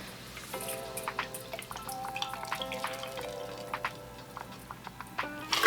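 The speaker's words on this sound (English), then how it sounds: "we are going to just double strain this into our Collins glass here." Grapefruit drink double strained over ice into a Collins glass, with a steady patter of dripping and trickling liquid, clinking ice and small splashes, close and moderately quiet.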